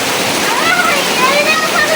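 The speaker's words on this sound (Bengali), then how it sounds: "শুধু বৃষ্টিই পড়তেছে দেখেন" Heavy rain pours steadily onto a leaky village kitchen roof, a dense continuous hiss and splatter of water that stays loud and even throughout.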